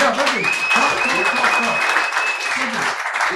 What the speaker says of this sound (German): Und ich finde, Applaus.